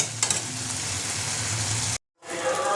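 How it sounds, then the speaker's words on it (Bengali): Lentil dumplings and whole green chillies fry in oil for a Bengali tilapia curry, making a loud, continuous sizzle that cuts to silence for a moment near the end and then resumes. "বড়িগুলোতে আমি একটু কষিয়ে নেব। দিয়ে দেবো গোটা কাঁচা লঙ্কাগুলো। এটা তেল ছাড়া পর্যন্ত আমি কষিয়ে নেব।"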